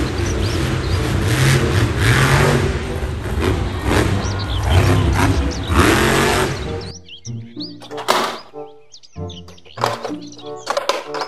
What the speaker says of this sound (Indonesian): Mobil truk monster.